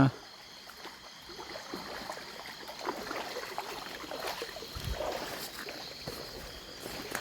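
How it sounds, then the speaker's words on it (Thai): Water from a village flows as a stream through rice paddies, giving a steady, close, continuous rush and trickle with a light wash of outdoor ambience throughout, no voices. "น้ำไหลมาแต่ หมู่บ้านบรรณวาเลย ไหลออกมาผ่านนา"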